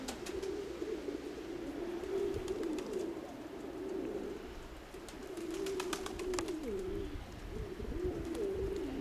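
A newly paired black pigeon and its mate sit on eggs in a loft, cooing in repeated low, throaty phrases close by, with wing rustles and scratchy movement noises between calls.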